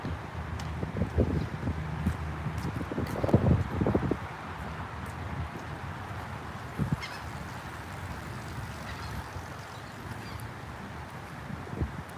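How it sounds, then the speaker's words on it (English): Seagull calls sound repeatedly near open water in South Brooklyn, New York, loudest early on, over steady wind and outdoor rustle. "I'm near the water now. I could hear some seagulls."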